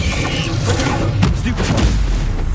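A fire spell cast in the video game Hogwarts Legacy, a loud burst of roaring, crackling blasts with booming impacts that continues steadily across the clip.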